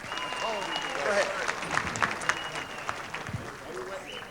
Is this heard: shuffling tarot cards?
no